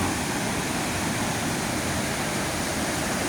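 Big sea waves during Typhoon Kristine make a constant, loud broadband roar of surf crashing and churning close by, with no break in the wash of noise.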